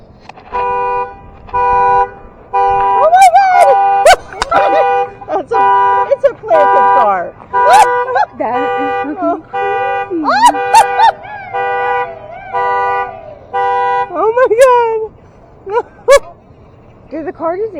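A car horn toots again and again in bursts of short honks and longer blasts, loud and close, with excited voices talking in between and some honks overlapping the speech.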